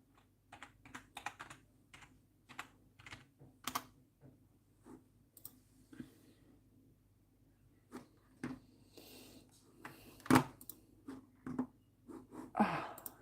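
Fingers type on a computer keyboard in quiet, uneven bursts of small clicking keystrokes that pause and pick up again. The sound is near and soft, and a few louder clacks come toward the end.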